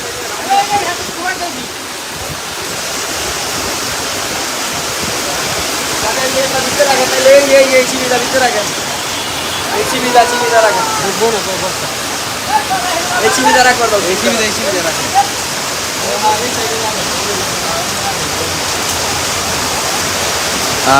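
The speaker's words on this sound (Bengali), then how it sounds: "তুমুল ঝড় হইতেছে হাসনাবাদ গরুর হাটে" Steady, dense rush of heavy rain and storm wind at a cattle market fills the whole stretch, with people talking faintly underneath.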